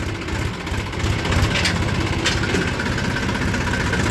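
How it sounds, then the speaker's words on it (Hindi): A tractor loaded with soil draws near along a farm track beside a paddy field, its engine a steady, close, loud diesel rumble with a slight swell in the middle and no talk. "पीछे मिट्टी का ट्रैक्टर आ रहा है।"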